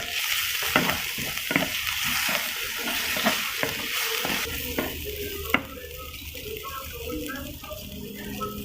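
Spicy mustard masala paste frying in a pan while being stirred, with close, soft sizzling and repeated scraping strokes of a spoon, a few brief sharper clinks, fairly quiet throughout.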